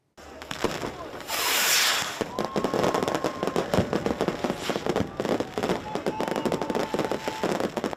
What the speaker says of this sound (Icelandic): Litríkir og fallegir flugeldar byrðu mörgum sín þegar mest gekk á áramótin